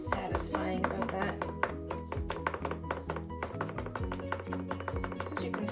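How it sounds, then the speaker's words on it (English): A knife chops garlic finely on a cutting board in a home kitchen with quick, steady, repeated taps. The chopping is faint and sits under background music. "I've chopped it one way first, and now I'm just doing a continual chop over it to make it really small"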